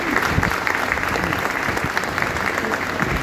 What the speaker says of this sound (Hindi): सारे टीचर्स को उनके तालियां बजानी चाहिए